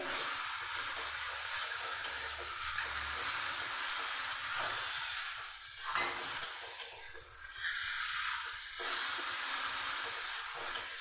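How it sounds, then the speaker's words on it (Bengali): Bottle gourd greens sizzle steadily in a hot pan with a little sugar added, a continuous frying hiss that swells and eases with occasional stirring, close and moderately loud with no talk. "আমি পাঁচ মিনিট ভেজে নেব"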